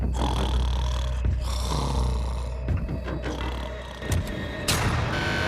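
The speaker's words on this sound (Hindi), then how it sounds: "तुम्हारे खर्राटों ने सोने नहीं दिया" A man sleeping in a prison cell snores loudly and close by, with deep rumbling breaths and snorts repeating in an uneven rhythm.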